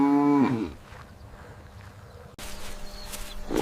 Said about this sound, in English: This is a medium black farm cow.